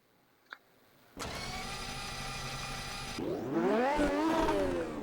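A McLaren MP4/4 Formula 1 car in a VR racing game starts up: a brief click, then a sudden loud engine catch settling into a steady high idle before it revs up and wavers, close and without talk.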